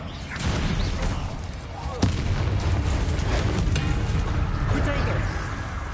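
Spell casts from the video game Hogwarts Legacy, Confringo and Expelliarmus, erupt as a dense, booming blast that roars on continuously at loud volume, with a sharp crack about a third of the way in.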